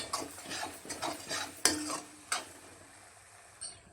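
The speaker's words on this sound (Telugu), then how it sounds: "అల్లం వెల్లి పేస్ట్ ఇదంతా బాగా ఆగాలి, ఈ ఆయిల్లో బాగా వేగిపోవాలి." Ginger garlic paste and masala frying in oil for a prawn and tamarind leaf curry, with a soft sizzle under several scraping stirs of a spoon against the pan and a few sharper clinks.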